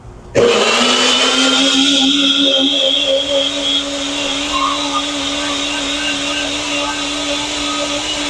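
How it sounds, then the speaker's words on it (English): A kitchen blender starts abruptly and runs loud and steady, its motor whine holding a constant pitch before easing slightly after a few seconds and continuing alone. "You gotta plug the blender in first."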